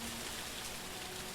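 Rain in a dark, foggy night-time video game environment, a faint, steady wash of soft hiss with no distinct drops or breaks.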